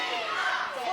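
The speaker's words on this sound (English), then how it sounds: "this crowd have come alive here" A sold-out wrestling crowd of about 400 at the Stour Centre in Ashford roars steadily throughout, a dense, continuous wash of cheering and shouting with no clear individual voices.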